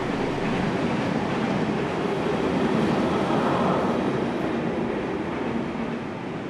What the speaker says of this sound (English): We see the loco at Carlton.